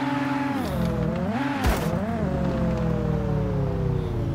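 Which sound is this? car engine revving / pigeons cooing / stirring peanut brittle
car engine revving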